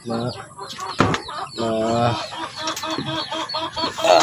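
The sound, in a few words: hen clucking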